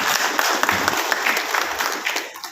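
Audience clapping for volunteers who clean up every weekend, a steady patter of many hands at a public gathering, fairly close, with a few voices mixed in.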